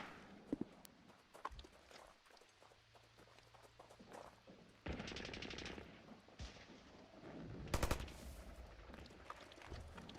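Machine gun fire in the WWII Online shooter game, sharp bursts with the loudest cluster near the end, over faint footsteps and other battlefield noise.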